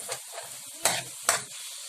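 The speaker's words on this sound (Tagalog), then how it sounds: "Halo-haloin natin." Chicken cubes sizzle in a frying pan while a utensil stirs them, with a soft frying hiss and a few scraping strokes, two of them sharper and louder, no talk.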